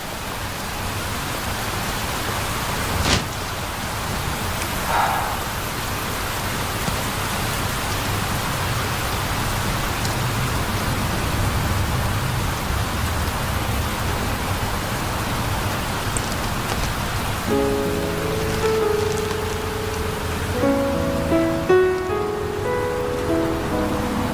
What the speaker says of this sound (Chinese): 怎么会有人真的喜欢淋雨？